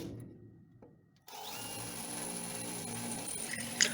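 A power drill bores out resistance spot welds on the inner quarter panel of a 1962 Chevrolet Impala, starting after a short quiet lead-in and whining steadily and loudly, with a brief sharp bite near the end.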